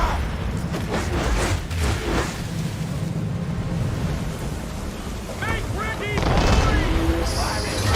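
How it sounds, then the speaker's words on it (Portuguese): Booming ship cannon shots and splashing water from Assassin's Creed III naval combat, several blasts in quick succession followed by louder crashes near the end. "Lá vem mais tiro"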